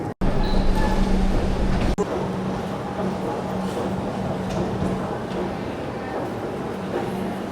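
Steady rumble and rattle of a moving commuter train carriage in Melbourne, a constant low drone with faint hum throughout, no talking.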